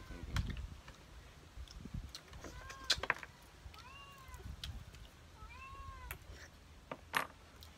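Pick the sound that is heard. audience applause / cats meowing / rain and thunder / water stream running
cats meowing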